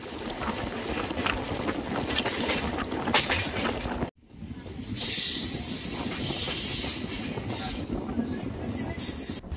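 A passenger train bound from Secunderabad toward Visakhapatnam rushes past at a station, loud broadband rumble and clatter with a brief sharp gap, then hissing, squealing wheel noise sustained to the end; no voices.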